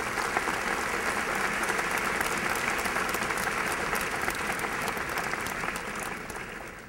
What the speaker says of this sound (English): let us give you a good round of applause